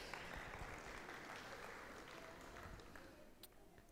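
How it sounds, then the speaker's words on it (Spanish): A church audience applauds in a hall, a soft, diffuse spread of clapping heard from a distance and fairly faint. "Un aplauso para ese video tan vacilón."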